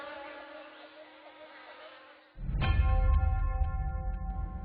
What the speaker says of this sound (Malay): Lebah tualang atau nama saintifiknya Apis dorsata, lebah bersaiz paling besar, gemar membuat sarang di pokok tualang.